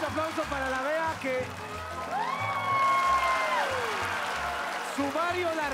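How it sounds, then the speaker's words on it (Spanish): A TV studio audience on a talk show applauds and cheers for a guest, a steady wash of clapping and shouts beneath loud, animated voices talking and calling out. "Otro aplauso para la Bea"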